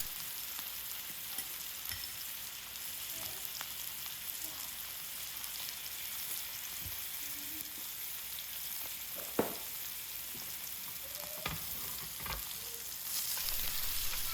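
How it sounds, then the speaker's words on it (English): Butter, garlic and dried thyme sizzle steadily around a steak in a cast iron skillet while it is basted, a constant bright frying hiss with occasional soft clinks and spoon scrapes, close and alone. "Go ahead and throw in butter, garlic, and dried thyme leaves into the skillet and start basting."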